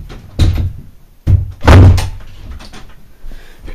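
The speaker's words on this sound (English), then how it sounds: "Okay, I just had to close my door." An indoor door is pushed shut, giving a few close thumps and knocks followed by a louder bang as it closes, then a short fading rattle.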